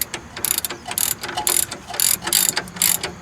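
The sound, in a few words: 18 mm ratchet wrench tightening sway bar link nut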